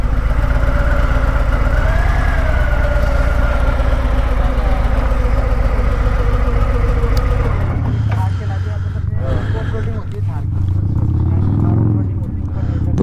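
Harley-Davidson Fat Boy motorcycle engine running loud and continuous while the bike struggles on sand dunes, with a steady low drone that shifts and dips partway through, and voices heard over it.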